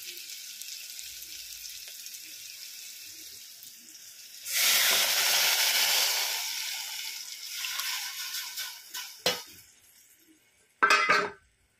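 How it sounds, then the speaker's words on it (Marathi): Cooked mung beans drop into a pan of sautéed onions, setting off a loud, bright sizzle that swells, fades into softer frying, then flares briefly twice more near the end. "आपण आता त्यामध्ये शिजून घेतलेले मूग टाकणार आहोत."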